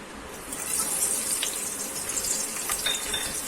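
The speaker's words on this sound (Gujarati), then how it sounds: "આપણું તેલ ગરમ થઈ ગયું છે. પહેલા આપણે લસણ નાખીશું." Garlic sizzles in hot oil in a pan for Indian-style tomato pasta, a steady bright crackling hiss with faint stirring clinks, alone without talk.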